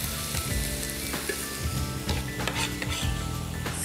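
Chopped green onion sizzling in a hot frying pan while chicken gizzards cook, a steady crackling fry with occasional clinks and stirring scrapes of a utensil against the pan.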